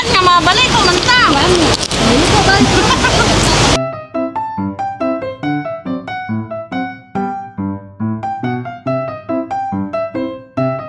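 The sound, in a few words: rain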